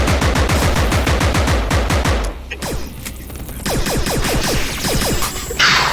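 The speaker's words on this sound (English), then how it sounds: "they're definitely firing way more bullets at me now" Enemy gunfire in the shooter Compound: dense, loud automatic fire from several guns, with rapid overlapping shots, a brief lull, then more bursts and a sharp closing crack.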